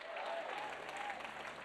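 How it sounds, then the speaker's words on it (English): Congregation applauding at a church service, a steady wash of clapping from a crowd that holds evenly throughout with a faint tonal hum beneath it. "I need a bigger round of applause than that."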